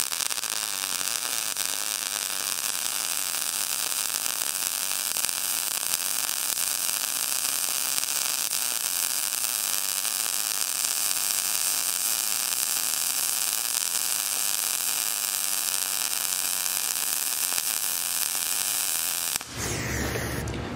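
A MIG 200i welder runs a MIG weld at +1 volts with a steady, loud, continuous crackling hiss and faint hum, then stops abruptly near the end.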